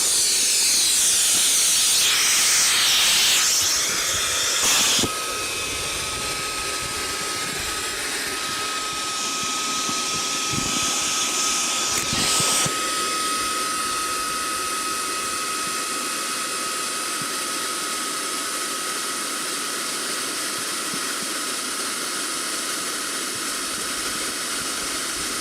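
A GIGA Pump 17 multifunction electric pump deflates a boat with a steady, loud airy hiss and whine that runs unbroken throughout, a few brief clunks and bumps near the start and middle, no voices.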